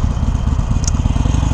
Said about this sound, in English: start to rev match with your throttle